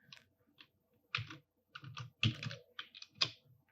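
Someone types a name on a computer keyboard, a quiet, close series of irregular key clicks in small bursts.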